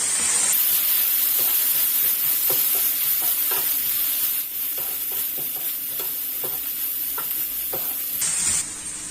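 Fried rice stirred in a hot pan with soy sauce and salt, a steady sizzle under repeated scraping and clinking strokes of the spatula, close and fairly loud throughout.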